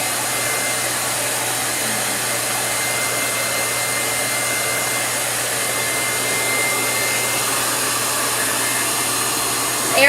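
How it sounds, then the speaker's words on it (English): Hair dryer blowing at a steady, loud whirring rush that holds level for about ten seconds, close by, with no talk. "Air feels good though coming up from the hairdryer."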